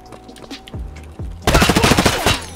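Automatic gunfire in Escape from Tarkov: a few scattered shots, then from midway a loud, sustained rapid burst of close-range fire continuing to the end.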